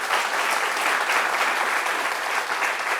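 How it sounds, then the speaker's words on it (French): An audience claps in a dense, even round of applause that stays loud and close for a few seconds, without talking. "je l'applaudis, ce qui ne s'est jamais fait ici, je l'applaudis et je suis fière d'elle"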